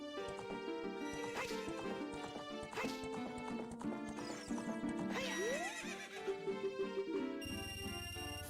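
In a video game, a horse whinnies and its hooves clip-clop steadily along a path, mixed with bright in-game tones and effects at an even, moderate loudness.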